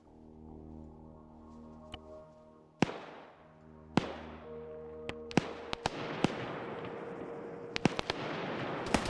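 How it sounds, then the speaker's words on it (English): Dynamite in a video game goes off as a series of sharp, distant booms and crackling pops that grow more frequent over a low steady rumble. "Now they're gonna go check out the explosion."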